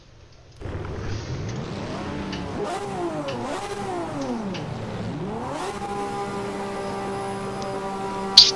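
A race car engine in the Project Motor Racing video game starts up and revs repeatedly, pitch swooping up and down through several throttle blips before settling into a steady high drone, loud and close.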